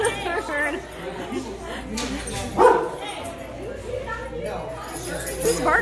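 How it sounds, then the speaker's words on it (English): Dogs bark and yip amid a group of dogs greeting a newcomer, with a louder bark near the middle, mixed with whimpers, light clinks and people talking over them. "He's barking."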